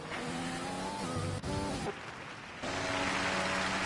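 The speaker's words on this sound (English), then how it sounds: "We see Joe Dimas, look how close they get in the braking zone" Race cars in a sim racing game at the Canadian Grand Prix, engines revving and shifting as they brake and accelerate in close company, loud and continuous with rising and falling engine tones and a brief tire squeal.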